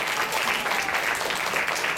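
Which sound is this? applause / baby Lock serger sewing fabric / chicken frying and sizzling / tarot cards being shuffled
applause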